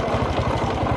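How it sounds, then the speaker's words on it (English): A motorbike engine idles steadily up close, a low rhythmic chugging that runs evenly without any talk over it. "you gotta turn on the key to start the motorbike"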